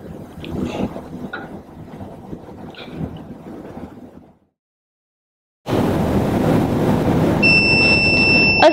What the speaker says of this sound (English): now the machine is beeping, it means thumbs up